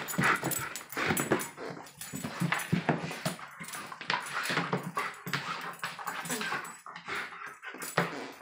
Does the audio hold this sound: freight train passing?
no